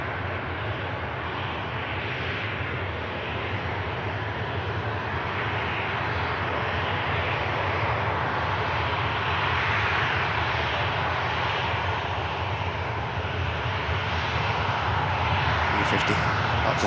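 An E50 jet waits for departure at Manchester Airport with its engines running, producing a loud, sustained roar that builds gradually across the clip, with a person talking underneath.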